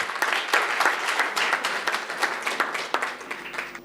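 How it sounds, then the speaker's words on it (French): An audience at an entrepreneurship reality-TV finale applauds a finalist, a mix of many hands clapping with distinct sharp claps pulsing through, moderately loud and with no voices. "Des applaudissements aussi pour Massa."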